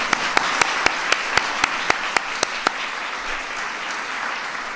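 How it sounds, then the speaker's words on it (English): At an event on marketing food and beverages to children in schools, about ten separate sharp claps ring out at an even, steady pace over a background of low crowd noise, then stop, leaving only the hum of the room. "let's give Tom a round of applause"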